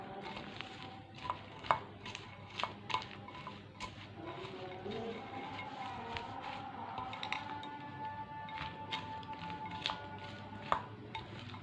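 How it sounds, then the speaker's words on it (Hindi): A spoon mixes a warm sweet farina-based cough remedy in a small bowl, with soft stirring under repeated light clinks and taps against the bowl, fairly quiet and close. "इसको हम अच्छे से मिक्स कर देंगे।"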